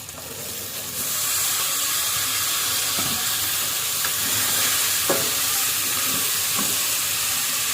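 Boiled peas stirred into potatoes frying in a pan, a steady loud sizzle and hiss with a few scraping stirs of the spoon, no voices.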